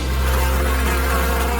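Bees buzz in a steady, close, continuous drone with no pauses and no voices.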